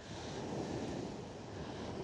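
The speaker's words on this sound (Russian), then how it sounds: "Слегка ветер есть" Steady wind buffets the microphone on the seashore at Opuk, Crimea, a continuous low roar blended with distant surf, with nobody speaking.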